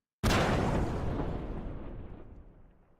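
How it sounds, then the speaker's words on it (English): A video game explosion sound effect: one loud, sudden boom that bursts out at once and then trails into a long, fading rumble lasting several seconds. "like this explosion sound"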